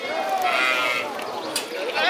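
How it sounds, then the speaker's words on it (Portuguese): Three sheep bleat at a livestock fair in Custódia, Pernambuco, with wavering cries rising close over crowd murmur and someone talking nearby. "Três ovelhas muito bonitas, viu? Olha as ovelhas aí."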